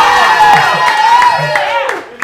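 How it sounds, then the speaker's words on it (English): Crowd at a girls basketball gathering clapping and cheering loudly up close, with high whoops and shouts riding over the applause before it tapers off. "So I want to hear a round of applause for Sid and Ola."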